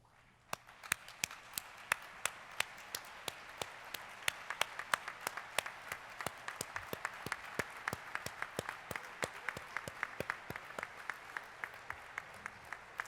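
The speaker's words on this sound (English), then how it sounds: "please stand so we can give you a round of applause" Audience at a National Guard town hall applauding Vietnam-era veterans, clapping that starts sparse and near with distinct sharp claps, then swells into steady sustained applause.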